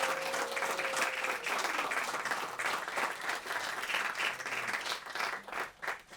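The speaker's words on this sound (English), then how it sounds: "Get a round of applause for this panel." Sustained audience applause for a music industry panel at a New York event, a dense steady wash of many hands clapping that swells and wavers before tapering slightly toward the end.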